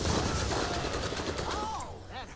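Rapid turret gunfire rattles through a Borderlands firefight, a dense, continuous burst of shots holding steady throughout, with a voice shouting briefly near the end.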